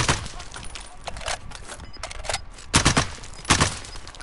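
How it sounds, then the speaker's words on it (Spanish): Rapid gunfire in the Warzone battle royale game: several sharp bursts and single shots ringing out at close to mid range, the heaviest volleys near the end, with faint background noise between them. "Disparando a la piedra."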